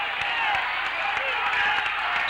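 Home crowd cheering and applauding at a 1989 high school basketball title game in the Wynford Royals gym, a dense roar of applause and cheers under a commentator talking.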